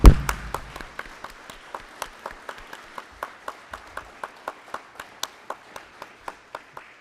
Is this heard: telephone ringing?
no